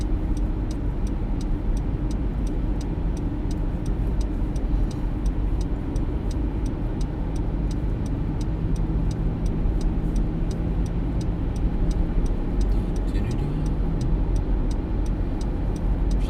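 Steady street traffic rumbles past in a Manhattan street as the Rockefeller Center Christmas tree is escorted along, cars flowing by continuously with a low broad drone and faint regular ticking, no voices.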